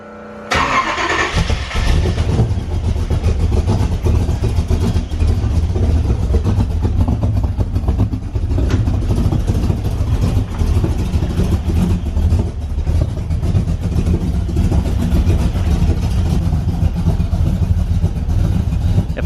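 A Ford Coyote V8 engine in a classic Mustang cranks and catches, then settles into a loud, steady rumbling idle with occasional revs, close by and continuous.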